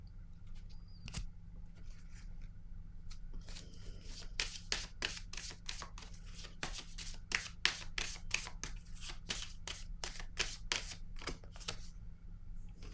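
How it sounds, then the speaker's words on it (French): Tarot cards are shuffled by hand up close, a quiet rapid run of crisp riffling flicks in quick succession after a few light handling sounds, over faint room hum. "Attendez, je vais piger une autre carte."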